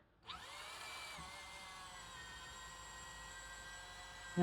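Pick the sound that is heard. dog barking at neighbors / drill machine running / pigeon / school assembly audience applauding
drill machine running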